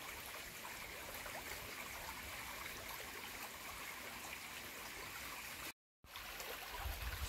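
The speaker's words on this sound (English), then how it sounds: "we've got running water" A woodland stream runs with a steady, even rush and trickle, soft and continuous, with a brief dropout near the end.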